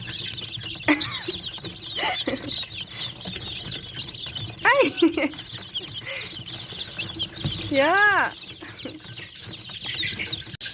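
Young chicks and pullets cluck and peep in short, scattered calls, with a few rising chirps standing out, while people laugh and talk nearby.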